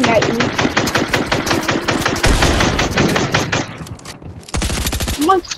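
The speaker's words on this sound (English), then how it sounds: "I'm shooting at you." Rapid video game gunfire, bursts of automatic shots crackling loud and close, with a brief lull before another dense volley; a voice talks over the shooting.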